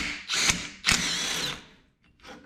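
A power tool spins nuts off the bottom bolts of a Silverado's suspension in two short, loud mechanical whirring bursts close by, followed by a brief, fainter third burst.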